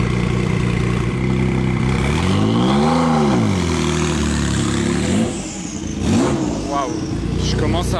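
A Jaguar XJ220 engine revs loudly and close by, the pitch swelling and falling in a long sweep before dropping back, then climbing again in a shorter burst.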